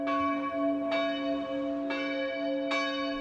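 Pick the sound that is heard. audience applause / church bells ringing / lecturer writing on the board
church bells ringing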